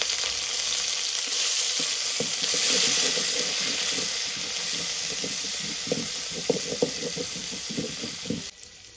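Shrimp sizzle in a pot with already-browned onions in soybean oil, a steady close hiss broken by scraping stirs and clinks, fading slightly near the end.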